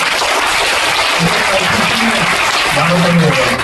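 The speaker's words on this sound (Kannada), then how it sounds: "ಟೀಚರ್ಸ್ಗೆ ಇವತ್ತು ಜೋರಾಗಿ ಚಪ್ಪಾಳೆ ಕೊಡಲೇಬೇಕು" Loud, steady crowd applause for teachers at a Women's Day celebration, continuous clapping filling the whole moment without pause.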